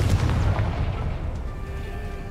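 A Confringo fire spell explodes in Hogwarts Legacy, a loud, heavy boom with a rumbling blast at the start that decays into a sustained low roar and crackle.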